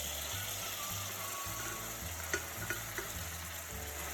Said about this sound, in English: Once the oil is hot, add the chopped tomatoes.